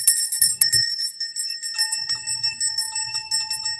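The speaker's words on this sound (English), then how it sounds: "I'll start with the bell. And I have one as well, and it's a golden bell" A golden bell rung by hand, bright metallic strikes at the start followed by long shimmering sustained tones that ring on and decay slowly, with a second softer strike midway, no talking.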